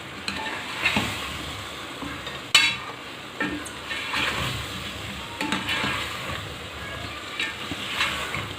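Raw mango pieces go into cooking spice masala in a pan for sweet-and-sour pickle, giving a steady soft sizzle with scattered clinks and stirring scrapes, close and moderately quiet with no talk.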